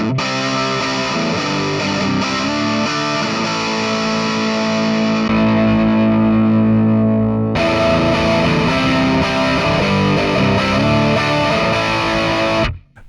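Distorted electric guitar through a miked cabinet, recorded with an AT2020 condenser and a B906 dynamic microphone; a loud, sustained, heavily overdriven riff with a brighter-sounding second half, ending abruptly.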